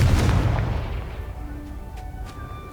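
An explosive Confringo spell in the Hogwarts Legacy video game lands as a loud, deep boom that rumbles and slowly decays, leaving faint tonal shimmer and a couple of soft chimes behind it.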